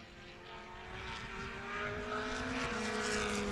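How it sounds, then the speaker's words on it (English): A Formula 2000 single-seater at a national championship circuit roars past. The engine drone is strong and steady, rising gradually in loudness as the car comes closer, with no talking. "Here we hear the Formula 2000 car roar through the MRF arch"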